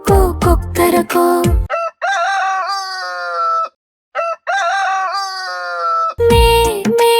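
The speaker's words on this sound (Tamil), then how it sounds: "சேவல் எப்படி கூவியது? கொக்கோ கொக்கோ கொக்கரகோ." A rooster crows several times in a children's animal-sounds song, each long, loud, strained cock-a-doodle-doo standing out between bursts of music, with a brief silence midway.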